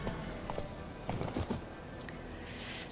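Horse hooves clatter in a quick run in The Witcher video game, a series of close clip-clop hits that bunch into louder bursts mid-clip over steady game ambience.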